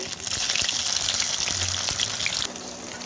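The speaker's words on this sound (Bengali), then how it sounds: "এবার বাকি মাছগুলো ভেজে নেবো, বাকি মুইঠাগুলো" Chitol fish muitha dumplings fry in hot oil, a close, steady crackling sizzle with scattered pops and a few soft knocks of a utensil.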